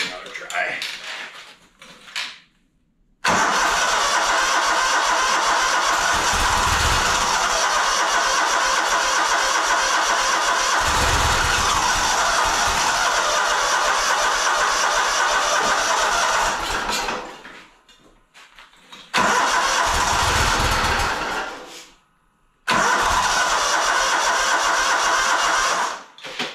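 A zero-turn snowblower's engine is cranked repeatedly, with several long, loud mechanical runs separated by abrupt silences as each attempt stops, and voices are heard between tries.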